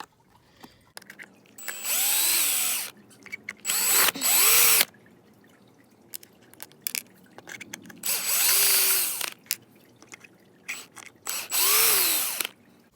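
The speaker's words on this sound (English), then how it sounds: "We'll need to undo 4 screws, one here, there, up there, and there." A power screwdriver backs four screws out of the waterproof receiver box on a Traxxas Slash 2WD RC truck. Four separate loud whirring bursts of about a second each are spaced apart, with quiet handling clicks between them.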